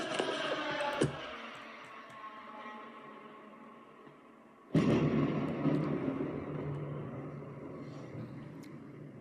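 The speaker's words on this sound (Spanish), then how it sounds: "os voy a poner las múltiples explosiones en Kiev" Heavy blasts echo over Kyiv in news footage: a sharp crack near the start, then a sudden loud, booming explosion around the midpoint followed by sustained rumbling roar, with a low ambient din throughout.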